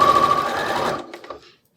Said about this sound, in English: So we're going to just sew 1/4 inch here. A little foot pedal,